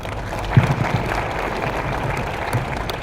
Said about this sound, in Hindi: एक बार तालियां होनी चाहिए सर के लिए